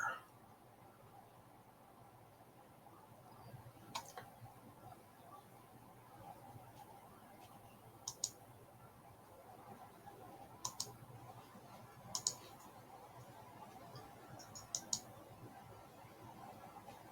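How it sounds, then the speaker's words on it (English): Sharp, sparse computer mouse clicks come every few seconds, sometimes in pairs, faint against a steady hiss of room noise during a home livestream. "You can hear me clicking."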